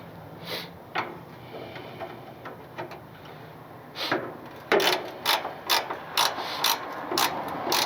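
A wrench ratchets on a hood bolt of a 1965 Chevrolet C10, giving sparse clicks and then a quicker series of sharp, close metallic ratchet strokes.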